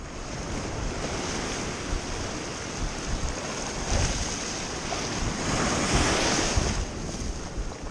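Ocean surf breaks along a shore in a choppy sea, a broad continuous rush of crashing water with wind buffeting the microphone, heard alone with no talking.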